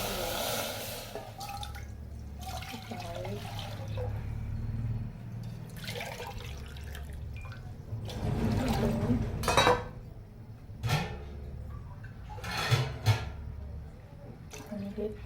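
Three glasses of water pour into a steel pot sitting on a gas stove, a splashing, dripping flow with a few metallic clinks, close and moderate, while a person talks over it.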